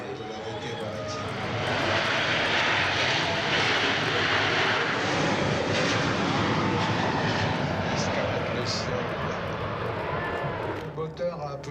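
Large jet airliner engines roar during a flight demonstration at the 2015 Paris Le Bourget airshow, a loud broad rumble swelling after the first seconds and holding steady, with a commentator talking over it.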